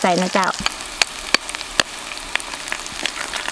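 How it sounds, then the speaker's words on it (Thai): Chili, garlic and eggs fry in a pan outdoors in a forest camp, giving a steady crackling sizzle with scattered sharp pops and spatters; a brief voice-like sound comes at the start. "เขาใส่พริกกับกระเทียมเข้าไปแล้วเขาก็มาตอกไข่"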